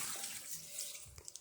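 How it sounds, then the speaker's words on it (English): Water pours from a tap into a cooking pot while Asian curry is being made, a brief, close, rushing splash. "you're going to pour a whole bunch of water in there"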